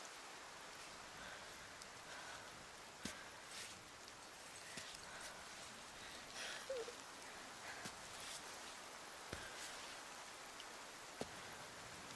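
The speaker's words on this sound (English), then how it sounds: "Chalk it up with that rain coming in." Steady rain in the video game Cairn, a soft continuous hiss of falling drops with a few scattered sharper taps, heard alone at low level.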